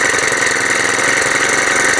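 Small engine fitted to a Honda F400 tiller runs steadily and close, a loud continuous rattling drone with no pauses and no voices.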